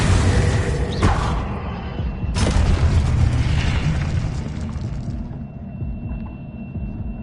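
Booming explosion of the Confringo blasting spell in the Hogwarts Legacy video game, two loud sharp bursts followed by a long rumbling, crackling decay with a faint ringing tone at the end, no talk.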